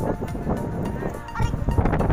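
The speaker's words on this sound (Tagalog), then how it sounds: "Lakas ng hangin." Strong gusting wind buffets an open spot beside a river, a low, rough rumble that swells and fades unevenly, with faint voices underneath.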